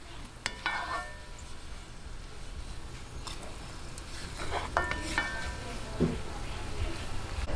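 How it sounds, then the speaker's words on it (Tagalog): Sautéing in a pan with toasted garlic for garlic kangkong stir fry, a steady sizzle with a few clinks and scrapes of a utensil against the pan. "umpisahan na po natin yung paggigisa"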